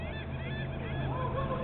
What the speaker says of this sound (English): Check out all the birds.